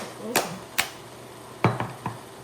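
Hands wrestle with a jar of tomato basil sauce, producing a few sharp clicks and knocks of the lid and glass, close and distinct, with brief pauses between them.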